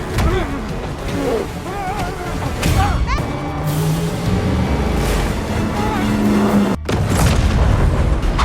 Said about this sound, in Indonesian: dan Emily akhirnya ikut melompat ke air dan membiarkan speedboat yang ditumpangi Chuck menghantam pintu air hingga meledak